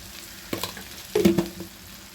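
Bitter gourd fry with turmeric powder and salt being stirred in a hot pan, with a few soft scraping strokes and a faint sizzle, quiet and close, with no talking.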